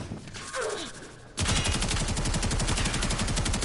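Karak Wraith rifle from Warframe opens fire after a quieter stretch, pouring out a rapid, steady stream of close, loud automatic shots that continue without pause to the end.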